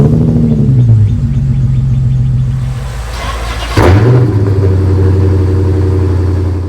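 A 2009 Dodge Challenger engine idles with a deep, loud, close rumble, briefly blips and revs midway with a sharp rise and fall, then settles back to a steady low idle.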